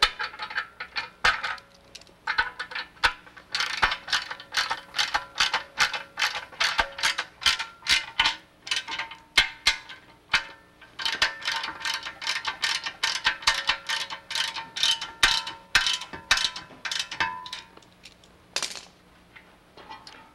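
Bolts on a standard door booth tightened with a ratchet, giving long runs of rapid metallic clicks in steady bursts, close and fairly loud, broken by brief pauses and a few clinks, with no speech.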